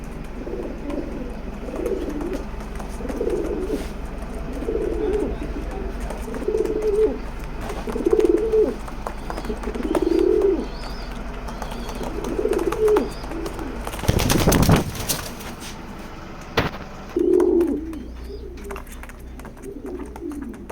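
A female racing pigeon coos in a repeated rhythmic series of low throaty calls, close and clear, briefly broken by a sharp burst of handling noise before the cooing resumes.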